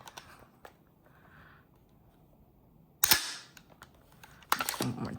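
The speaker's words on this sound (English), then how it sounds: "Just want you guys to hear it one more time. The bolt. Lock it to the back." The bolt of a GHK HK416A5 airsoft rifle racked back and locked open, giving two sharp, close metallic clacks a second or so apart, with quiet handling clicks before them.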